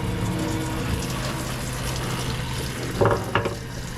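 Water runs steadily from a tap with a constant hiss, followed by a couple of brief splashing surges near the end.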